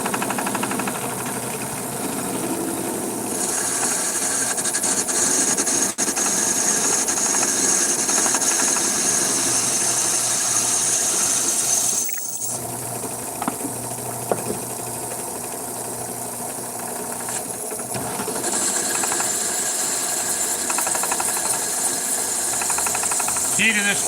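A steady mechanical whine and rumble of a cheap, weak drill press running a DeWalt bit continuously, with brief dips as pressure changes, over a constant machine hum.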